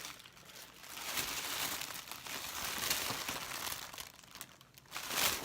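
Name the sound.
tissue paper crinkling while unpacking a Jeffree Star package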